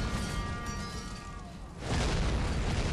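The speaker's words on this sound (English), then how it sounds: "Boom! There goes that cannon." A cannon fires in the fantasy battle game Warhammer: Mark of Chaos, with a loud, deep boom breaking out at once over steady battlefield din and then rumbling on to the end.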